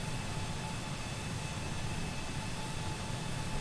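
LEAP jet engines of an Airbus A320neo in flight drone as a steady, broadband cabin roar with a low rumble, constant and enveloping, with no voices.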